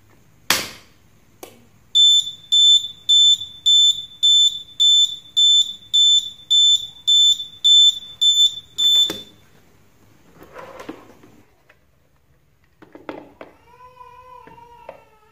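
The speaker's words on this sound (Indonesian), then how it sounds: "alarm berbunyi ketika terjadi mati listrik atau saat charger kehilangan sumber tegangan" A short chirp, then a loud electronic buzzer of a simple homemade power failure alarm pulses rapidly and evenly for several seconds before stopping; softer noises and a brief warbling tone follow.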